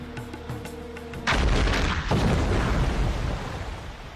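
A sudden heavy boom erupts after a moment of quieter background, followed by a loud rumbling roar that lingers and slowly decays, like a cannon firing a stone ball.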